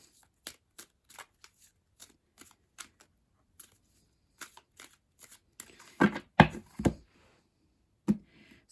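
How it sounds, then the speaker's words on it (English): A tarot deck is shuffled in quick, crisp riffles and taps, at first light and spaced, then building into a few louder bursts near the end, with no talk. "One more good shuffle."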